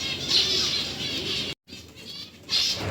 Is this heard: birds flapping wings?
yes